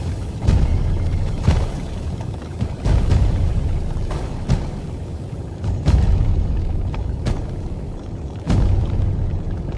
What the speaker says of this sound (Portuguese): o silêncio foi quebrado por um estrondo rítmico